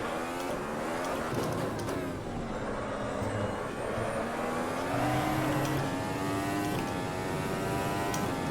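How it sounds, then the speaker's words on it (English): Sports car engine in a racing video game on a dry Montreal circuit, revving hard with sharp, violent downshifts; a loud, continuous engine note rises and drops in pitch through gear changes, up close and without talk. "Oh, and the downshifts are quite violent"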